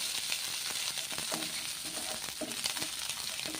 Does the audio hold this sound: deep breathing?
no